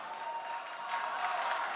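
Arena crowd at an IEM Katowice 2019 Counter-Strike semi-final cheers and applauds in a steady, roaring wash that swells slightly toward the end, with no talk over it.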